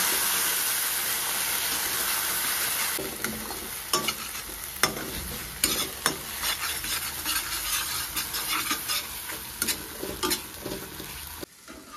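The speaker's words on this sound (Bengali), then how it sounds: "এবারে মশলাগুলোকে কষে দেব।" Ground spice paste with salt and turmeric is stir-fried in a pan for Bengali bata fish curry, starting as a loud continuous sizzle, then broken by repeated sharp scraping strokes of a spatula as the hiss settles.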